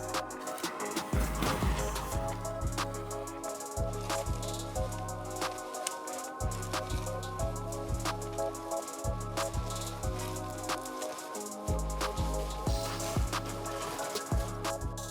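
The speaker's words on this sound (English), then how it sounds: "let's try to go on the bike right through the deep snow" An electric 2x2 fatbike with hydraulic brakes ploughs through wheel-deep snow, a steady motor whine running under a rhythmic series of low crunching thumps, close up with no talking.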